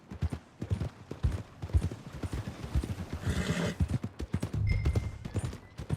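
A horse in the Red Dead Redemption 2 video game clops along with rhythmic hoofbeats, and a whinny rises partway through. The sounds are close and moderately loud over quiet game ambience.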